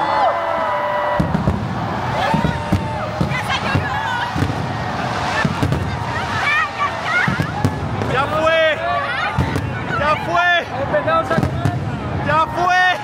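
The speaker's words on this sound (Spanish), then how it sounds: "Hay fuegos artificiales." Fireworks burst over a New Year's Eve celebration in Bangkok, sharp bangs and crackles popping irregularly through the clip beneath a lively crowd and loud, excited talking nearby.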